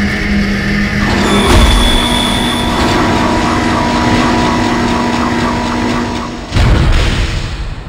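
A mine cart in the Dead Space video game rolls heavily along rails, a loud continuous rumble with metallic squeal and a deep thud partway through, without voices.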